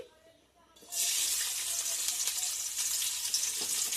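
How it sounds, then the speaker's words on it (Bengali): Chopped garlic and green chilli hit hot oil for chowmein, bursting into a loud, steady sizzle after a quiet moment, the hiss staying strong and continuous to the end. "তেলটা গরম হয়ে গেছে এবার আমি দিব এতে রসুন কুচি"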